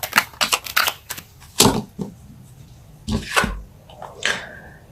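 Tarot cards are pulled from the deck, producing a quick run of close, crisp shuffling flicks and snaps, followed by a few louder slaps and rustles of card stock.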